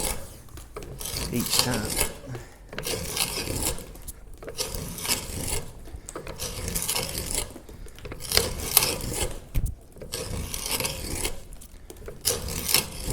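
A hand-powered drill bores a hole in wood on a Moravian workbench, giving a rough, rhythmic rasping scrape that swells and pauses with each stroke, close and fairly loud, with a brief spoken remark.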